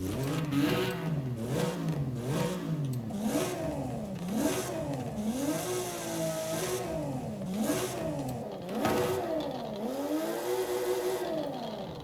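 A car engine in Forza Horizon 5 revs up and down repeatedly in a tuned build, rising and falling pitch sweeps with a whirring mechanical whine, loud and steady without speech.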